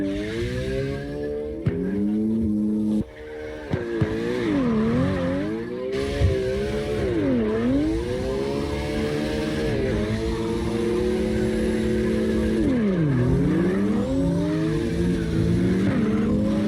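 Car drifting in the CarX Drift Racing Online game on the Navaro Base A map, with a continuous revving engine that rises and dips in sweeping pitch bends under steady tire squeal, loud and close throughout.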